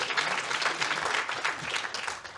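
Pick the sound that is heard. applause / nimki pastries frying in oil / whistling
applause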